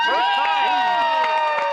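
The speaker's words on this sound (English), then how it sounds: "Can we get another round of applause for Katie?" A GenCon crowd at a live horror tabletop roleplaying session whoops and cheers, with bright rising and falling voices over scattered claps in a short, loud burst.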